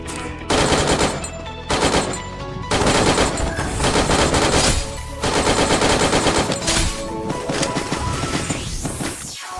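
Rapid AUG assault rifle fire in the Free Fire mobile battle royale game, several loud sustained bursts separated by brief pauses, close and dense, with no speech.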